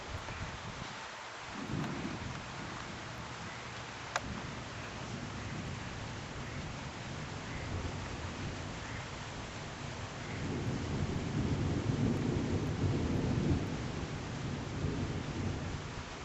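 Thunderstorm rolling in under a still-clear patch of sky, with steady rain hiss throughout, a sharp crack near four seconds and deep thunder rumbling louder toward the end; no talking.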